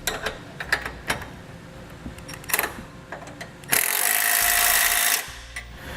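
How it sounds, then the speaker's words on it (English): Socket wrenches and ratchets tighten large 19mm bolts and nuts while a Roadmaster Direct-Connect base plate kit goes onto a 2018 vehicle, giving scattered metallic clicks and clanks, then a dense burst of rapid ratcheting near the end. "The larger bolts and nuts we'll tighten down with 19mm sockets and wrenches."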